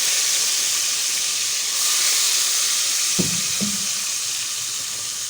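Steady, loud hissing sizzle of masala and tomato frying in a hot pan, continuous throughout with two brief low knocks near the end and no talking.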